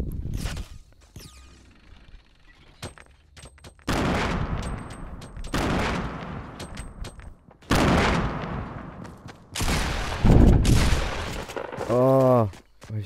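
Gunfire in the Fortnite Battle Royale video game, with several bursts of rapid shots spread across the stretch, loud and close, separated by quieter gaps with footsteps and small clicks.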